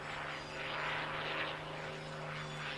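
A P-51 Mustang propeller fighter roars overhead at an air show, a steady loud engine drone with a low harmonic hum that swells and eases slightly as it passes over the crowd.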